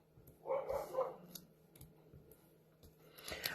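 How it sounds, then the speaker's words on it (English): A dog barking indoors in a home, a quick cluster of three sharp barks early on, fairly faint and set back from the microphone, followed by scattered light clicks. "he is barking up a storm"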